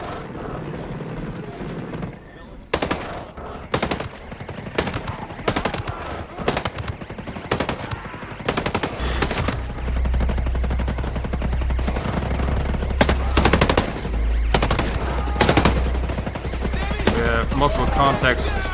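Rapid bursts of automatic gunfire from the tactical shooter Ghost Recon Breakpoint, repeated sharp volleys across the scene over a low rumbling engine-like drone, with radio chatter between players.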